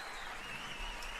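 A short burst of audience applause for a round winner at an agile case studies game session, even clapping heard alone.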